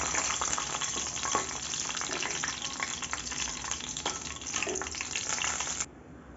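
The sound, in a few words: dried red chillies and bay leaves frying in hot oil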